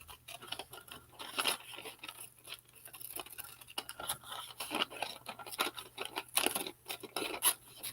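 Scissors snipping through paper blocks during a layered paper craft, a run of close, quick crisp cuts and light scraping repeating steadily throughout.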